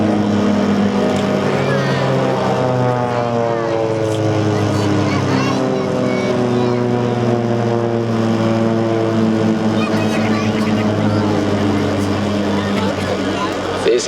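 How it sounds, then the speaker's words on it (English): Pilatus PC-7 propeller aircraft of an aerobatic team fly in formation, a loud sustained engine drone with shifting, sweeping pitch as the planes pass, while a voice talks over it. "Aircraft joining this aerial combat."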